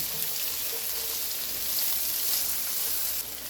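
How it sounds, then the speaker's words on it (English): Onions sautéing in a skillet, a steady bright sizzle and crackle that stays close and even throughout, with no talking. "As you are sauteing your onions"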